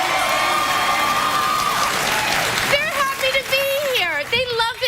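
Talk show studio audience applauding, a dense wash of clapping and cheering from the crowd that fades out partway through, followed by people talking.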